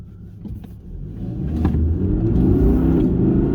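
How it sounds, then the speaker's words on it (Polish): An Audi R8 sports car engine revs up, its deep rumble building steadily louder and holding at a heavy, throaty roar. "Jak dajemy mu, silnik się zamienia w demona!"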